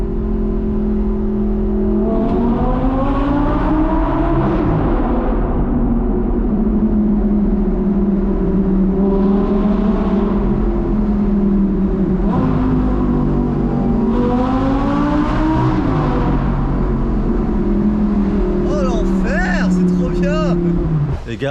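Audi R8 V10 engine of the current generation roaring loud and close inside a tunnel, rising and falling in revs over several shifts with strong booming resonance, with people talking over it.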